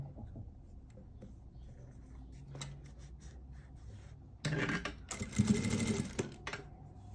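A sewing machine stitches ribbon along the presser foot for quilt piecing, starting with quiet handling and rustling, then a close, steady mechanical whir in two short bursts near the end.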